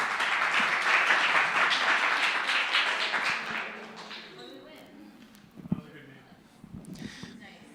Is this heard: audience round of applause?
yes